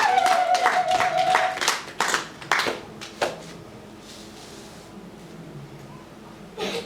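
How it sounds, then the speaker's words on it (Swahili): A church congregation claps hands during a sermon, a burst of loud, uneven clapping over the first few seconds that thins to a few scattered claps and then quiet room tone, with a faint voice. "Mpigie Yesu makofi kama unanielewa"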